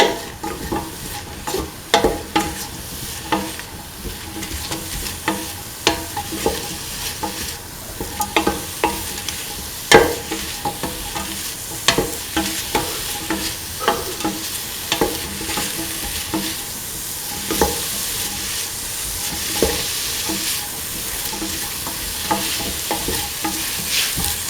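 Spices stirred in a pot for a chickpea, snake gourd and coconut milk stew, with close, steady sizzling and frequent light scraping clicks of a spoon running throughout, no voices.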